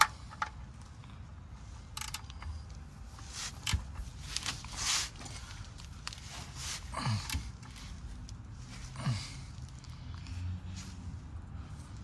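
Metallic ratcheting and clicking of a tool tightening a car's oil drain part back on, close and intermittent with light handling clatter and shuffling, no voices.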